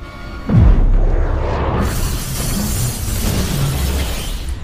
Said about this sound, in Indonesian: sebuah rudal N2 pun meluncur di atas Raccoon City dan menghancurkan seluruh kota